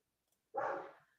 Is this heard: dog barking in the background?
yes